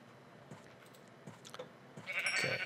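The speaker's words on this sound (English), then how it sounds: "Yeah, I was just gonna say, yeah, moo, but these are sheep." Sheep in a Minecraft-style survival crafting game give a few short bleats among soft footsteps and clicks, ending in a louder, longer bleat.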